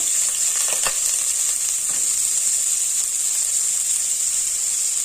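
Mustard seeds, onion and curry leaves fry in oil in a pan, giving a steady, bright sizzle throughout with occasional crackles, close and alone.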